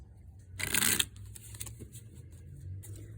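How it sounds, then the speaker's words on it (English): A deck of tarot cards being shuffled by hand gives one quick, close riffling burst, then settles into faint handling noise over a low room hum. "I'm going to shuffle just a few more times to get your energy flowing within the cards here"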